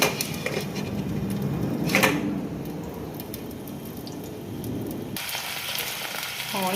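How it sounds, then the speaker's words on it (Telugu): Large-cut onions fry in hot oil in a pan for an egg curry, a steady dense sizzle and crackle throughout, close and loud, with occasional scrapes and stirring clatter. "ఆనియన్స్ వేసేసుకొని ఆనియన్స్ ఫ్రై చేసుకుందాం"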